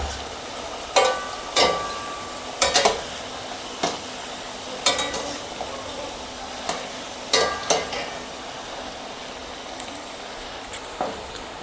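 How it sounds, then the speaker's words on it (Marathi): Puris for gharge frying in deep hot oil, with a soft background sizzle broken by scattered sharp clinks and scrapes of a spoon against the pan, close and moderately loud. "आपलं तेल तपलेलं आहे भरपूर। हे बघा, पुऱ्या टाकून घेते सर्व"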